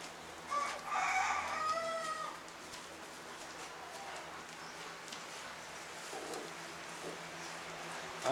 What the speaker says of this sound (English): Look, there's the little baby chickens.